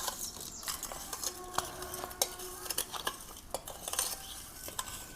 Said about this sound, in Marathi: ह्याला बरोबर असं तेलात टाकून असं चमच्याने मिक्स करायचं